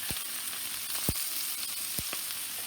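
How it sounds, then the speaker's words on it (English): Garlic added to a hot skillet for marinated pork tenderloin gives a steady, quiet frying sizzle, with a few sharp clicks of a pan or utensil over the hiss. "So I'm going to add my garlic"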